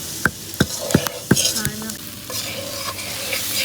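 Cauliflower fries in a pan with a steady sizzle, punctuated by sharp spatula clacks and scrapes against the metal, with faint voices in the background.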